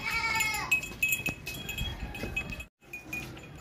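A young pregnant goat, due to kid within about twenty days, lets out a loud bleat at the start, followed by clinks and shuffling noises close by.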